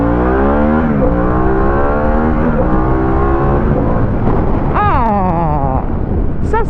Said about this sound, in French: ça c'est un moteur que j'aime aussi.